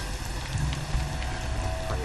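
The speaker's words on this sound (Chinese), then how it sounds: "这雨下的真不是个时候啊" Steady rain pours down on a wet, cold night in a wartime military scene, a dense continuous hiss of drops on surfaces filling the short stretch with no voices.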